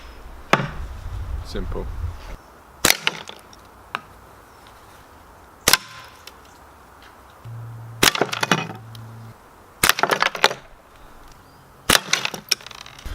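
Stones fired from a homemade slingshot pistol strike a target in several sharp, loud cracks spaced a couple of seconds apart, with brief handling noise and a word or two of speech between shots.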